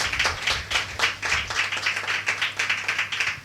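A congregation at a Sunday church service claps hands in a steady, quick unison rhythm, bright and close, with a faint low hum underneath and no speech over the beat.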